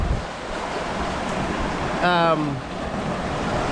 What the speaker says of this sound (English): waves are pushing the boat around a little bit